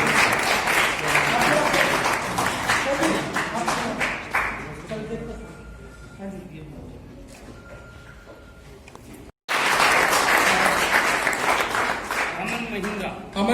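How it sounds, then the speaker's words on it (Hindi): A seated audience at a community education event claps in two loud bursts, dense applause that fades into a quieter stretch with a voice speaking, then resumes strongly after a brief cut. "तालियों के साथ में गड़गड़ाहट की आवाज आनी चाहिए साथियों।"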